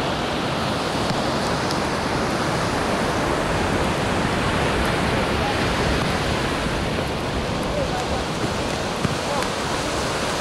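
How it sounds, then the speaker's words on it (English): Beach surf with waves breaking, heard as a steady, broad wash of noise that hardly changes in level, with no clear voices. "So I go down to the beach occasionally"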